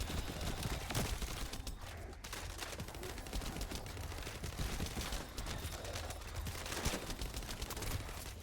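Assault turret firing at mobs in The First Descendant, a dense, continuous stream of rapid automatic gunfire bursts that stays loud and busy throughout, with layered combat noise and no clear pauses.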